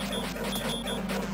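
A dog barks in the Sega retro action game Shadow Dancer: The Secret of Shinobi, a short burst of game-sound yapping over a steady dense background of game audio.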